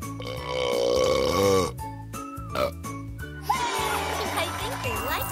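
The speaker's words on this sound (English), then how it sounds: "Oh, maybe they need to burp." Cartoonish burp sound effect from a kids' panda pet-care video game, set against bright jingly game music and chimes, fairly loud and continuous.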